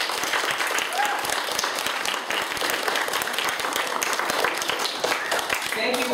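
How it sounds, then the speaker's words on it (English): Audience applause after a gymnastics demonstration by a local gym team, a steady round of many hands clapping at moderate loudness, with scattered individual claps standing out and voices murmuring underneath. "If we could give them a round of applause."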